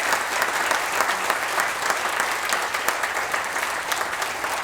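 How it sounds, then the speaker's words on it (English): An outdoor crowd at a wind farm groundbreaking ceremony applauds local leadership, dense sustained clapping that stays loud and even throughout with no speech over it. "your local leadership really needs a round of applause, and let's do that right now"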